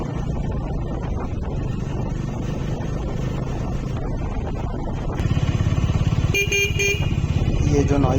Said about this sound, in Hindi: ये बेसिकली ना इसके रेडिएटर फैन की है, जो ऑटोमेटिकली ऑन हो जाता है